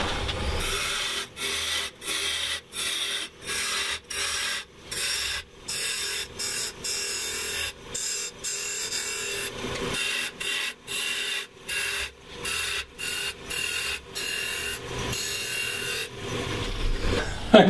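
A maple burl box spins on a wood lathe as a tool cuts material away, a steady scraping, rasping drone broken by regular short gaps, loud and close with no talk.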